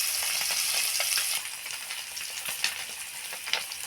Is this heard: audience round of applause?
no